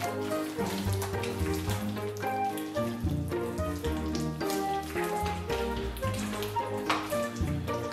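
Pork intestines are washed by hand in a sink, giving steady splashing and sloshing water for several seconds, close and continuous with no talking.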